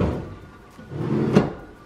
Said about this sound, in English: but then also these drawers pull out.